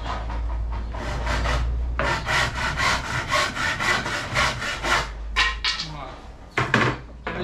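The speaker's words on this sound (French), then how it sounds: "mettre des coups de scie pour faire le centre" A hand saw cutting through wood clamped on a workbench shims, steady rhythmic back-and-forth strokes, loud and close, with a brief pause and a few final rougher strokes.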